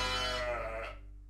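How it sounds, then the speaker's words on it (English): A sheep or young lamb on a farm gives a single loud, close, wavering bleat that fades out over about a second, with no talking. "There's lots of sheep over there. Look, baby sheep."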